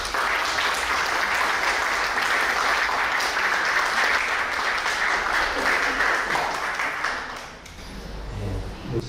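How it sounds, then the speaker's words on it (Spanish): Strong, sustained applause from an audience at a book presentation at a folklore school, a dense wash of clapping that holds for about seven seconds and then fades as a voice begins. "Lo recibimos con fuertes palmas"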